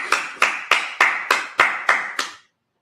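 A congregation at a Sabbath service claps in unison: eight sharp, evenly spaced claps in a steady beat, then silence.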